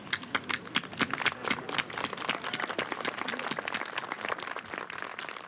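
Graduation audience applauding for the class of 2021, a dense patter of many hands clapping at moderate distance, steady throughout with no talk over it.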